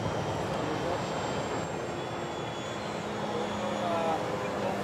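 A Freewing T-33 RC model jet on its first flights flies overhead, a steady continuous engine whine with a thin high tone holding throughout, moderately loud and unbroken, with some outdoor background.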